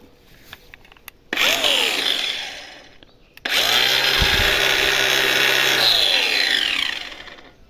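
Newly bought power tool fitted with a thick disc, likely an angle grinder, whining as it spins up, winds down, then starts again and runs at full speed before slowing, loud and close with no talk.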